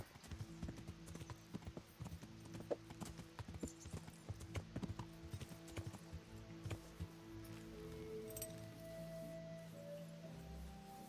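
Steady clip-clopping horse hooves trot along for the whole stretch in the game Kingdom Come: Deliverance, a quick repeated rhythm with faint background ambience and no talk.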